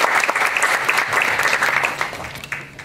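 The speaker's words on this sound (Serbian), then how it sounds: "Stoga pozdravimo našeg gosta jednim aplauzom." Steady, full applause from an audience in a hall welcoming a guest speaker, dense clapping throughout that eases slightly toward the end.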